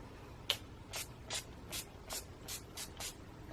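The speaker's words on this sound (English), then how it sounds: "I go in with my setting spray now before I do anything else" Eight quick, soft hissing sprays of makeup setting spray misted onto a face at a steady pace, each a short airy puff, close and fairly quiet with no talking.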